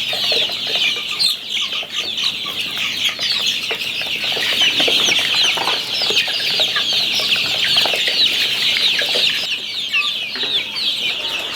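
Twelve-day-old farm chicks for sale cheep in a steady, dense chorus of high peeping, close and continuous, with no talking.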